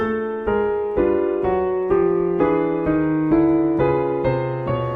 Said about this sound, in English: one of the strangest chord progressions I know